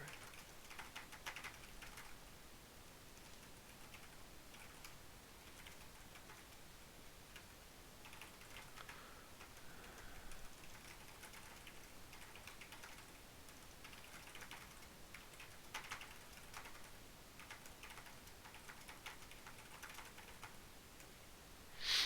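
Quiet, steady typing on a computer keyboard, with irregular soft key taps running continuously at low level and no voices.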